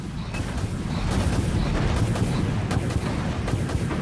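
Missiles launching in the space combat game Dreadnought, a dense, loud, continuous roar of booming blasts and rumbling fire filling the whole stretch.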